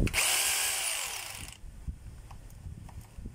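A hammer drill runs loudly for about a second and a half, then cuts out, leaving low rumbling handling noise behind.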